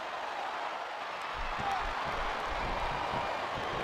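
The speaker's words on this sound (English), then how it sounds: "This capacity crowd is making their opinions known tonight." A dense video game crowd roar from WWE SmackDown vs. Raw on PS2 swells and cheers continuously, filling the space like a packed wrestling arena, steady and loud throughout.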